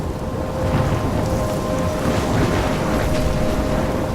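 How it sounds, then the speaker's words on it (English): Thunderstorm in the video game Life Is Strange: steady, loud rain with low rumbling thunder rolling throughout, dense and continuous with no voices. "I'm trapped in a storm?"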